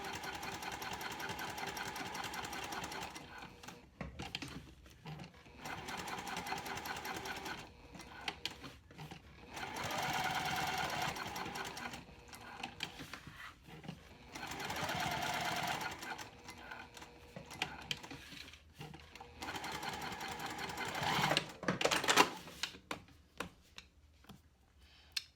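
A sewing machine stitches through cork while making an all-cork clutch wallet, running in several sustained bursts of rapid mechanical whirring separated by short pauses, close and steady.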